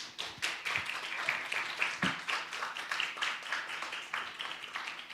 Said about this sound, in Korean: 우리 환영의 큰 박수로 모시겠습니다